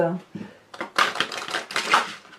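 An angel oracle card deck being shuffled up close, a quick flutter of riffled cards right after someone speaks briefly in French.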